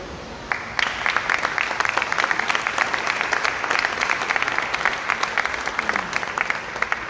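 Audience applause after a round-table talk in Tuxtla Gutiérrez, Chiapas: dense, steady clapping from a full room that starts abruptly and carries on loudly, with no voices over it.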